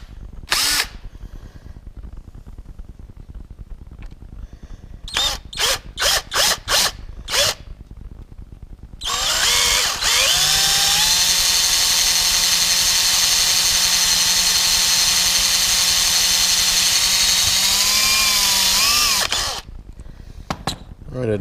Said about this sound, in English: let's get drill and drill bit, and let's cut a hole here.